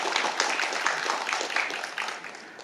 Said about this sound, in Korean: 뜨거운 감사의 박수를 부탁드리겠습니다